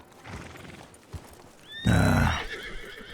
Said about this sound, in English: Hey, lots of horses coming in,